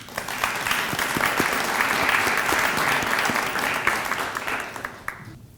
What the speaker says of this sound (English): can we take a moment to give them a round of applause?